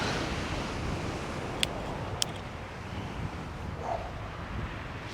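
A steady wind blows across Chesil Beach on a cold early morning, buffeting the microphone with a constant low rush, and faint surf sits beneath it. Two brief clicks break through; no one speaks.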